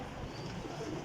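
Desi pigeons of the Pipla breed cooing close by, a soft continuous low warbling coo filling the short moment with no other sounds.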